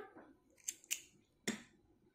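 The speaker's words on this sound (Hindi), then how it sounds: "ये जो धागा है हमारा इसको हम इतना काट देंगे यहाँ से यहाँ से इतना धागा हम कट कर देते हैं इसका" Scissors snip crochet thread in three quick, crisp cuts close by, each a sharp click against quiet background, with no talking.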